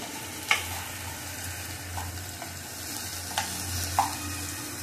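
Okra (bhendi) stir-fries in a pan with a faint, continuous sizzle. A spoon occasionally scrapes and taps the pan, with a low background hum.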